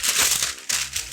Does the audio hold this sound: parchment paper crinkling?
yes